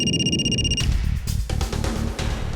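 A telephone rings in short electronic bursts over a busy, rhythmic background of music and noise, the tones dropping away after the first second.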